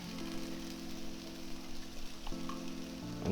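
Sausage and onions frying in a pan, a soft, continuous sizzle with a low steady hum underneath, heard up close but fairly quiet.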